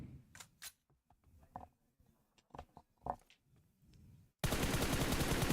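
Automatic gunfire sprays in a competitive video game match, with quick bursts of rapid, moderately distant shots, followed by a sudden loud wash of noise.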